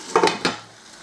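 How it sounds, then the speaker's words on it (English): A lid clatters onto a frying pan of cooking chicken, two or three quick metallic clanks close by, then a faint fading ring. "We're going to place our lid on"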